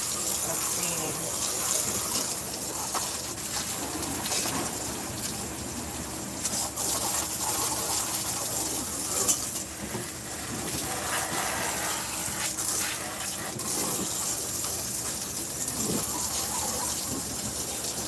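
Water runs steadily from a tap or hose outdoors at a property where siding is being scrubbed, a continuous loud gushing hiss that holds evenly throughout.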